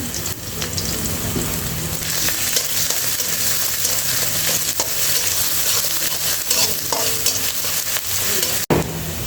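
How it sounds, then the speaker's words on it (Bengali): Dried red chillies, black cumin and garlic hit hot oil in a heated kadai for a Bengali tempering, giving a loud, steady, dense sizzle with stirring throughout and a sharp click near the end. "ফোড়নে দিয়ে দিচ্ছি শুকনো লঙ্কা কালো জিরে দিয়ে দিয়ে দিলাম রসুন"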